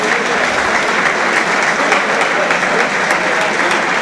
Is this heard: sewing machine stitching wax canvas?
no